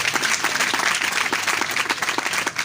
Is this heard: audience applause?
yes